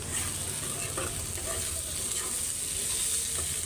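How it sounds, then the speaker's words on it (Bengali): Small fish frying in a pan with onions, green chillies and spices, giving a steady, dense sizzle that stays close and even from start to finish, with faint scraping now and then. "গুঁড়া মাছটা বসায় দিব আজকে ভাইজা নিতেছি সুন্দর করে"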